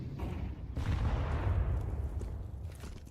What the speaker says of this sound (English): Nade lands on his toes.